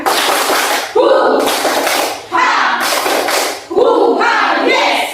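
At an Indonesian school training session, a group performs a rhythmic spirit clap, with loud bursts of clapping and shouting repeated in several even blocks.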